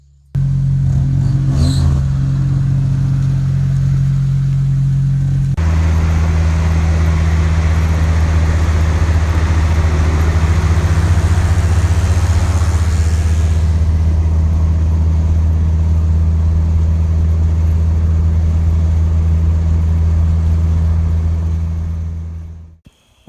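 Car engine running loud and close with a steady low drone, rising into a harder acceleration about a third of the way in, then settling back to a constant cruising rumble until it fades at the end.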